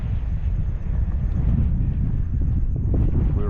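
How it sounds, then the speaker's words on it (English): Wind blowing over open water near an anchored small boat, a heavy, continuous low rumble of gusts buffeting the microphone with faint splashes underneath. "Now we know what the wind feels like."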